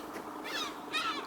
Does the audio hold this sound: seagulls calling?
yes